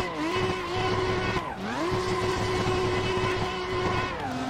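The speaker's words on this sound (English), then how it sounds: "Every gear is just wheel spin." A Chevy C-10 truck with a swapped tank engine in the racing game Assetto Corsa, engine roaring continuously through wheel spin with tire screech, dipping briefly at a gear change before climbing again.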